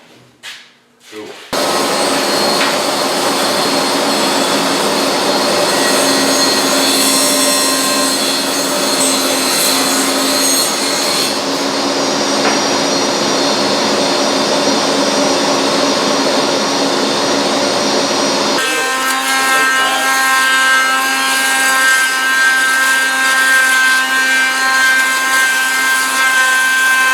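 A power saw cuts wood during a wooden canoe build, a loud continuous high whine that starts abruptly after a brief knock and holds steady, changing pitch partway as the blade load shifts.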